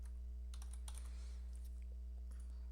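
Typing a name on a computer keyboard: a few quick, quiet key clicks in short bursts over a constant low electrical hum, with no speech.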